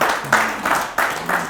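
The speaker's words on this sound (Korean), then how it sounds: "이 박수는 우리 직원들한테 보내겠습니다" An audience claps at a farmers' lecture held at a hanok resort in Muan, the applause coming in a few swelling bursts of broadband clatter with no talk over it.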